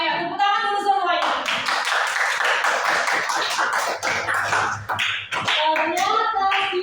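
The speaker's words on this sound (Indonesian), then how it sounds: "Ayo, tepuk tangan dulu semuanya." A class of schoolchildren claps their hands together in a dense, steady burst in a classroom, with a teacher's voice and children's voices heard before and after.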